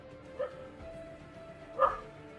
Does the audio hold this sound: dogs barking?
yes